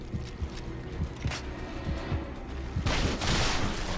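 Rapid bursts of gunfire from a heavier weapon than a pistol in The Evil Within, sharp repeated shots in clusters, loud and close, ending in a denser, louder volley.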